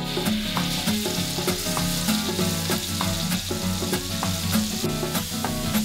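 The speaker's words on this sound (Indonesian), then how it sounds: "Campuran bahan halus ini selanjutnya ditumis hingga harum dan matang." A ground spice paste of galangal, sugar and salt sautés in a pan with a steady, loud sizzle and crackle, stirred with a regular scraping rhythm throughout, no voices.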